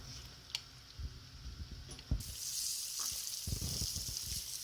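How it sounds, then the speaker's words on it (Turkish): Tomato paste frying in a pan for a spicy Turkish soup, giving a steady close hiss of sizzling with occasional stirring scrapes and soft clicks, growing louder and brighter partway through. "Bu şekilde salçayı kavuralım"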